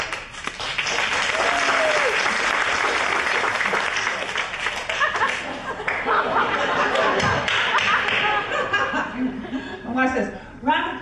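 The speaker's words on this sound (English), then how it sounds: "A round of applause for those children." A stand-up comedy audience claps and chuckles together, a dense wash of applause mixed with laughter that holds for most of the stretch, with scattered voices near the end.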